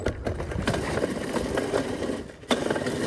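Modified 96-volt Razor SX500 electric scooter straining uphill, its motor grinding with a rough, steady whir and rattle that dips briefly near the end before surging again, close and fairly loud with no talk.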